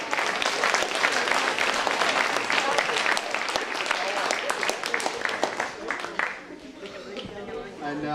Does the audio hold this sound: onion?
no